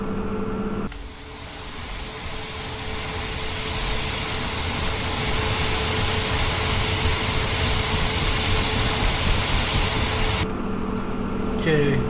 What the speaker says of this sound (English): Okay, that engine has started all the way now.